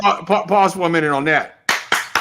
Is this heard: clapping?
yes